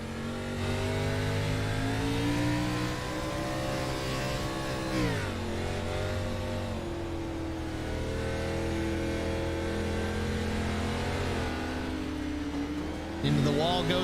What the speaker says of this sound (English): We're right on board with Jamie Kerr, watching Ben Choate and Josh Battles fight it out here into turn 1